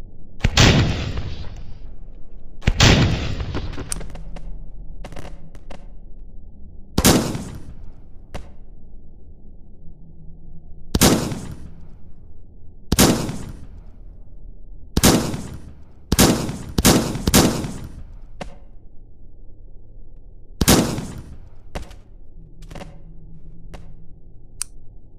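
Shotgun shots at a shooting range in a video game, a dozen or so loud, sharp, close blasts spaced irregularly a second or several apart, with a low ambient hum between them.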